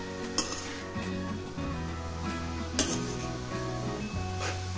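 Grated carrot halwa roasting in ghee in a pan, with a spoon repeatedly scraping and clinking against the metal in a steady stirring rhythm and a faint sizzle beneath, close and without speech.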